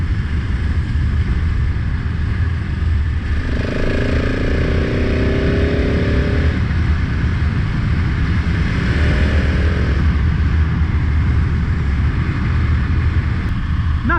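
A 2020 KTM 690 SMC R single-cylinder motorcycle being ridden, giving a steady loud engine drone with wind buffeting and rising revs under acceleration.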